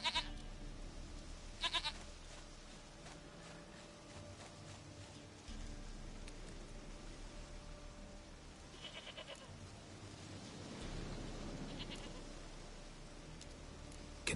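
A goat bleats in the video game Witcher 3, short faint bleats at intervals over a quiet outdoor ambience with a soft rain-like hiss.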